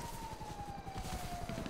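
A police car siren wails in GTA 5 Online, a steady, slowly falling tone heard over a busy game background.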